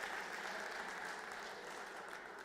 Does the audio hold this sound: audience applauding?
yes